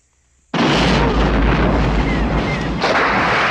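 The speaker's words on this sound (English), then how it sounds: "There's a lot of big action scenes, and they have real explosions." A single huge blast of real dynamite on a South African action film set erupts after a short silence into a loud, sustained roaring rumble, swelling again near the end.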